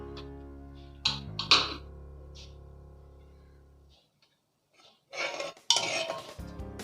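A pressure cooker of cooked lentils being opened, with sharp metallic clanks of the lid and pot at the start, a near-silent pause, then a rush of clattering metal handling and scraping at the end.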